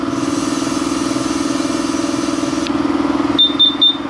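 Pump inflating a PVC tyre on a drift trike to 3.5 bar hums with a steady, loud motor drone, then cuts off and gives three short high beeps as it finishes.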